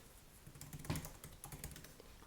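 Quiet keystrokes on a Mac computer keyboard, a scatter of soft clicks with one slightly firmer tap near the start, all faint against a low background hum.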